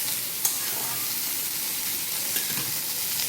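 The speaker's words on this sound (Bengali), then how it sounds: "ফুলকপিগুলোকে আমি লাল করে একটু ভেজে নেব।" Cauliflower pieces browning in hot oil in a pan give a steady, dense sizzle throughout, with a couple of brief clicks of a utensil stirring.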